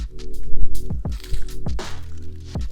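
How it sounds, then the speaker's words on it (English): Soft-boiled egg popped open in a bowl of instant ramen, giving soft wet squishes and drips of runny yolk and broth, close and fairly loud, with no talking. "you're gonna wanna pop the egg, open it up and get all that nice runny yolk going"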